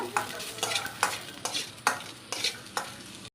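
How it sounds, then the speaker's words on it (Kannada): Onion and garlic dry-fry in a pan without oil, a soft sizzle broken by a regular series of about eight scraping stirs, each a short bright rasp roughly every half second, close and clear with no talk. "ಇದಕ್ಕೆ ಎಣ್ಣೆಯನ್ನು ಹಾಕ್ಕೋಬೇಡಿ ಡ್ರೈ ಆಗಿ ಫ್ರೈ ಮಾಡ್ಕೋಬೇಕು"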